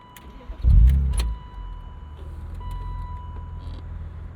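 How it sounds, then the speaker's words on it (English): A 1999 BMW Z3 M Roadster's S52 engine cranks and catches with a loud, throbbing burst, then settles into a steady, lower idle rumble. "You can hear that S52 comes to life with a bit of a throb."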